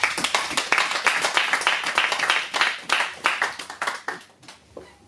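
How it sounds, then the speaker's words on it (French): A crowd applauds with dense, steady clapping that swells and then thins out toward the end. "Donnons des acclamations pour lui."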